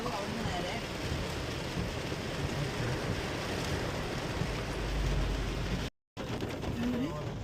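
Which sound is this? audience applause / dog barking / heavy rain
heavy rain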